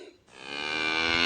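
A small herd of sheep and goats grazes beside a cemetery with a shepherd, and one animal gives a single rising, drawn-out bleat, loud and near, with nothing else heard.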